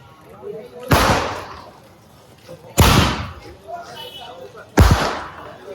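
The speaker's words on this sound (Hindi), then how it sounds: "दिवाली आ गई है और पटाखा फूटना शुरू" Diwali firecrackers bursting outdoors, three loud sharp bangs spaced about two seconds apart, each followed by a short ringing decay, with people talking in between.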